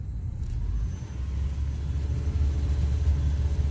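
A misfiring 2000 Honda Accord engine idles with a low, steady rumble that swells slightly as it is revved toward about 3000 rpm, close and continuous.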